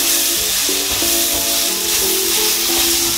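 Onions frying in coconut oil in an uruli pan, a loud, steady close sizzle and hiss with faint tonal hum running underneath throughout.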